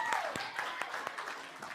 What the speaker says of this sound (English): Give him a round of applause as he joins me on stage